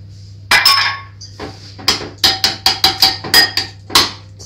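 Eggs cracked against the rim of a bowl of curd, a run of sharp close clinks and taps on glass or ceramic, some single and some in quick rhythmic bursts.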